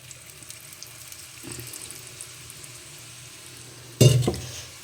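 Methi paratha frying in oil on a hot griddle, a low steady sizzle that swells into a louder, sputtering burst near the end.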